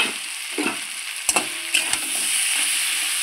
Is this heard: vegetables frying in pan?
yes